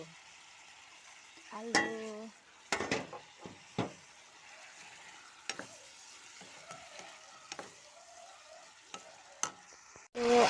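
Potatoes going into a pan with turmeric, giving scattered stirring scrapes and soft sizzling, with a few sharp knocks of utensil on pan over a quiet background.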